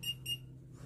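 A key finder alarm set off from the iSearching phone app gives two short, shrill electronic beeps in quick succession, faint and then dying away over a low steady hum.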